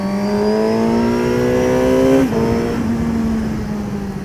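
A motorcycle on the Le Vigeant race track accelerates hard, its engine note climbing steadily and loud at close range, then dropping sharply as it shifts gear and pulls on again at a lower pitch.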